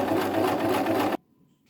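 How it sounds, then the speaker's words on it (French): A sewing machine stitches the seam allowances of a fabric face mask at 3 mm, a steady close-up whir running continuously for about a second before cutting off abruptly into near silence. "Et je couds les marges à 3 mm."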